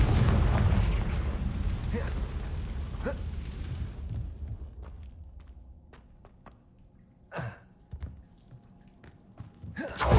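A Confringo blasting spell explodes in Hogwarts Legacy with a loud, rumbling boom that fades away over several seconds. A few scattered thuds and soft pops follow, with short bursts near the end.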